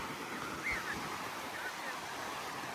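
Gentle surf rolls in steadily at St. Pete Beach on the Gulf coast of Florida, a soft continuous wash of calm waves with light wind over the microphone and a brief thump near the start.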